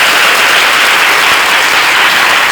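Dense, steady applause from an audience at a Malayalam devotional gathering celebrating a birth-star festival, a continuous loud wash of many hands clapping with no pauses and no speech.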